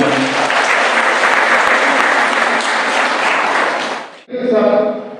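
Applause from an audience at a Tamil Nadu Pharmacy Council election candidates' introduction meeting in Kallakurichi, dense sustained clapping for about four seconds before it stops and a voice speaks.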